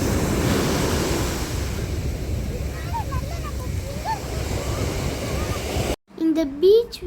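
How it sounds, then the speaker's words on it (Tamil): Ocean surf rolls steadily onto Al Aqah beach in Fujairah, a broad continuous wash of breaking waves with wind noise, ending in a brief cut where a voice speaks. "அலை வருது."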